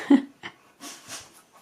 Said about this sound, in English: excuse the dog sneezing there